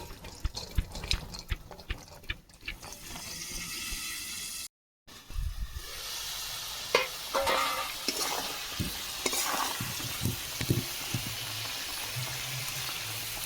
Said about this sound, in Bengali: ঢাকা দিয়ে দিয়ে আলুটা ভেজে নেব